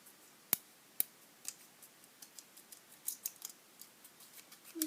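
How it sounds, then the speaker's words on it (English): Scissors snip a plastic drinking straw into small pieces, giving a couple of sharp crisp cuts followed by a run of lighter clicking snips, close up and quiet with no talking. "Now I'm going to cut a little piece this big and use this."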